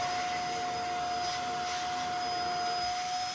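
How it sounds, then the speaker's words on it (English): A vacuum cleaner sucks up drilling dust beside a bathroom tub, giving a loud, steady, close whine with a sharp constant tone and no breaks. "I'm going to vacuum everything up and clean it up"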